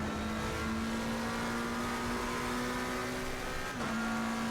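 A race car engine in a racing video game holds a steady, high whine at constant loudness, with a brief dip in pitch near the end, as if shifting gear.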